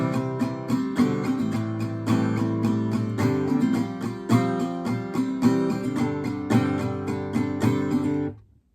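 Solo acoustic guitar strumming a chorus line of a song, a sustained, close run of rhythmic down-up strokes moving through several chords before ringing out, with no voices.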